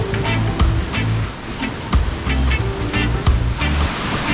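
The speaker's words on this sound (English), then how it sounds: "Right next to the waterfall, beautiful." Steady, loud rushing water roars continuously from Moelwyn Waterfall in Snowdonia close by, with brief louder splashes and thuds scattered through it.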